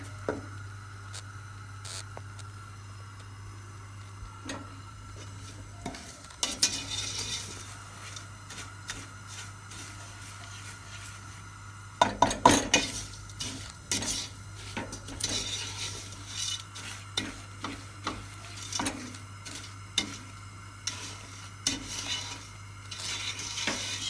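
A spoon scrapes and stirs melting, caramelizing sugar in a pan, giving sporadic clinks and sticky scraping strokes over a low background hum, quiet at first and then busier in the second half.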